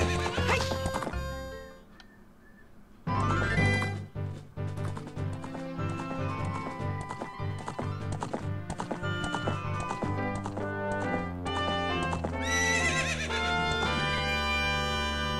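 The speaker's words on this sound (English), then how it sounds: "Hey, Epona, let's go for a ride," Epona the horse in Zelda: Ocarina of Time, clip-clop hoofbeats and a whinny set against loud, continuous game music that fills the whole stretch.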